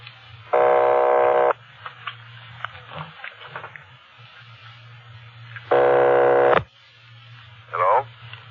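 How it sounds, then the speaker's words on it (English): Two long buzzing rings on an old telephone line, each about a second and several seconds apart, loud and close, with a low line hum and faint clicks between them and a brief chirp near the end. "They're ringing the number, Sergeant."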